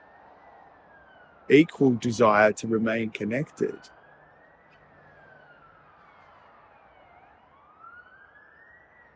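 A siren wails faintly in the distance, its pitch rising and falling slowly, while a person speaks briefly in the foreground before the siren continues alone.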